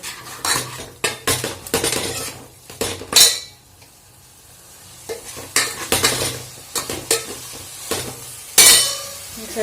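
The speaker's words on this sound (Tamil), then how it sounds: "நல்லா மிக்ஸ் பண்ணி விட்டுக்கோங்க" A spoon scrapes and clinks against a pan as egg curry with curry masala powder is stirred, with a soft sizzle underneath and irregular bursts of metallic scraping.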